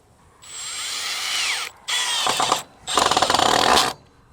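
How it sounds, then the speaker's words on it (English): A power drill drives a Tech screw into a hip board on a Quonset greenhouse. There are three loud, close bursts of whirring, the last ending in a rattling, grinding finish. "And then we're going to put a Tech screw in it, or a machine screw."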